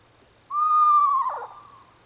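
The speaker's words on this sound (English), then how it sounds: "the sound of the screech owl" A single screech owl call sounds alone against quiet: a clear, drawn-out whinnying tone that wavers and breaks into a rough trill as it fades.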